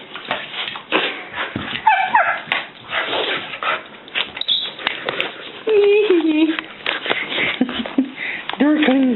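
Sick puppy with parvo whimpering, sniffing and giving short high yips at close range, the cries interleaved with frequent speech from people nearby.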